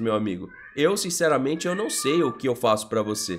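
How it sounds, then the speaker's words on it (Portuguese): A cat meows in a room, a few short meows mixed in under someone talking continuously in Portuguese close to the microphone. "Desculpa o gato aqui"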